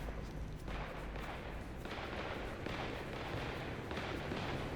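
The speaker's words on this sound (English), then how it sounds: "There is gunfire constantly, all over the place." Gunfire in the video game Vampire the Masquerade Bloodlines 2, a dense, continuous barrage of booming shots and rumbling blasts that carries on steadily without pause and sounds somewhat distant.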